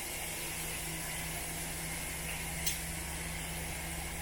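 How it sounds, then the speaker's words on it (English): A Thai squash curry mix sizzles quietly in a frying pan, a faint, steady hiss of frying with no voices over it. "Now I'm going to add the mix to the frying pan"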